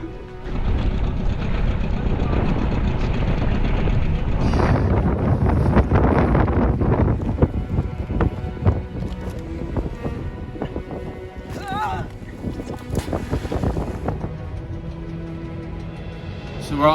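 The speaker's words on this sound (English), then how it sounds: "it's literally gusting to like 29" Strong gusting wind buffets a yacht at sea, a loud continuous roar and rumble with flapping and creaking that eases slightly in the second half; no talking is heard.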